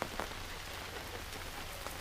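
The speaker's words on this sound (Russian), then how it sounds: "Дождик." Steady rain pattering on a surface, a dense, even hiss of drops with no voices.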